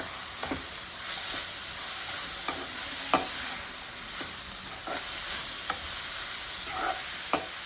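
Chopped beans and carrots fry in a pan for South Indian semiya upma, a steady hiss of sizzling oil broken by repeated scraping stirs of a spoon every second or so.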